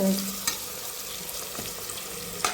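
Onions sautéing in oil for a vegetable biryani, a soft continuous sizzle with a few faint utensil taps, fairly quiet and steady, with no talking.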